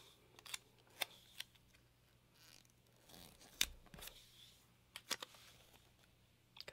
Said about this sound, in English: I will just kind of cut in half